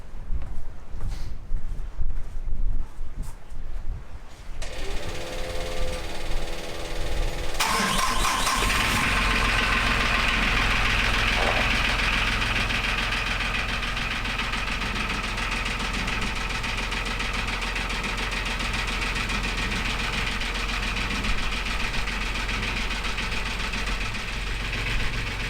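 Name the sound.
engine starting and idling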